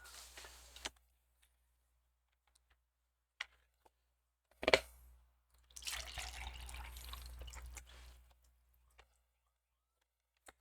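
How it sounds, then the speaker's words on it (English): Water runs into a container in short bursts, a brief splash, then a steady pour of a couple of seconds, faint and close, with quiet clicks and handling noises around it. "I do need to fill my water"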